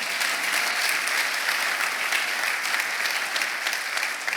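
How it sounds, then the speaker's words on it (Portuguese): A church congregation applauds during a sermon, a thick, continuous wash of many hands clapping at full strength, steady from start to finish with no speech over it. "Alguém aplaude o Senhor."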